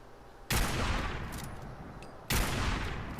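Fallout 4 gunfire: two loud, abrupt bursts of heavy shooting, each decaying into a long rumbling tail, with faint clinks in between.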